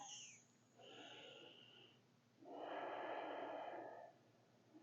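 Deep belly breathing during a yoga session for gas relief: a soft breathy inhale, a brief pause, then a longer, louder airy exhale, close to the microphone with no speech.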